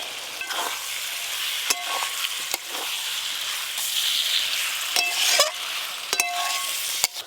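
Boiled potato pieces stirred into spiced tomato masala in a pan, a continuous sizzle with occasional sharp clinks and scrapes of the spatula.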